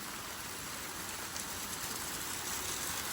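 Heavy rain pours down steadily outdoors near farm fields, a dense, continuous hiss of drops striking surfaces at close range with no pauses, loud and even throughout.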